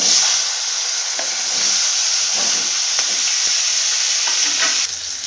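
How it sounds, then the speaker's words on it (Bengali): Leftover vegetables fry in a pan after cauliflower pieces are lifted out, cooking for a puja bhog khichuri: a steady close sizzle with the scrape of stirring running throughout, no voices. "এরপরে যে সবজিটুকু আছে সেটা আমি এইভাবে একইভাবে ভেজে নেব।"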